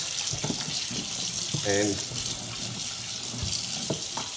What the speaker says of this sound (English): Let the water go through all those saw cuts